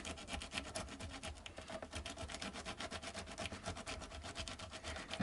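Faint, close rubbing strokes of 60-grit abrasive pressed firmly on the frets of a Vintage V100 guitar during a re-fret, a quick even scratching rhythm throughout.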